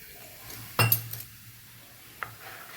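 A spoon clinks against a bowl while Eno and a spoonful of water are stirred into dhokla batter, with one sharp knock followed by soft scraping and a faint second tap; no talking.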